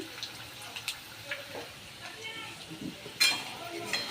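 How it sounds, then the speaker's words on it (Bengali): Eggs fry in hot oil in a home kitchen pan, a faint, intermittent sizzle with small crackles and a few louder spits, quiet and close. "এখানে ডিম ভাজা হচ্ছে"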